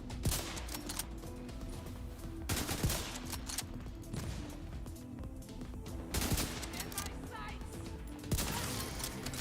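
Dense video-game gunfire from The Division 2, with rapid bursts and sharp shots cracking out repeatedly across the whole stretch, loud and continuous with no pauses.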